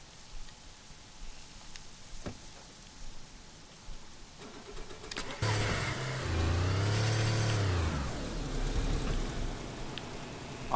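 A car engine in the DayZ video game on PS4 Pro, starting low and then revving hard and loud from about halfway through, its pitch climbing and falling in surges while the car is broken.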